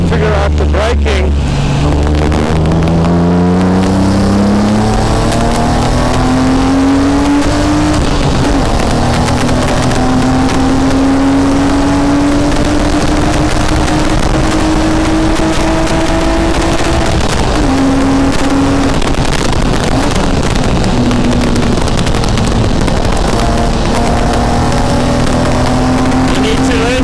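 A garage-built BMW E36 race car drives in a race. The loud engine note holds steady and climbs through the gears, with in-car rumble and wind noise throughout.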